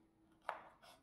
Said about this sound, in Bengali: বোটা আর পিছন দিকটা একটু সুন্দর করে কেটে নেব।